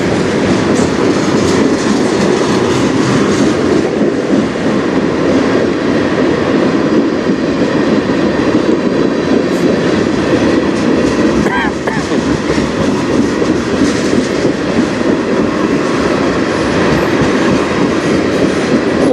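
A freight train rolls past on the Strathroy Subdivision, a loud, steady roar of wagons with continuous clickety-clack and faint wheel squeal throughout.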